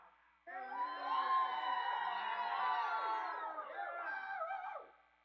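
A concert audience at The One Stop bursts into loud yelling, whooping and cheering, sustained for several seconds before tapering off abruptly.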